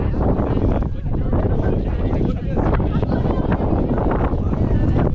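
Strong, gusty wind roars across the microphone on the Cerro Negro volcano in Nicaragua, a dense, continuous rumble that may hide faint speech.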